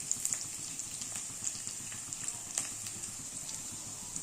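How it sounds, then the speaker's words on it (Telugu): Onions, chillies, curry leaves and garlic fry in a pan with a soft, steady sizzle and scattered small crackles and pops, quiet and close, with no talking. "కొంచెం వెల్లుల్లి వేసుకొని ఫ్రై చేసుకోవాలి"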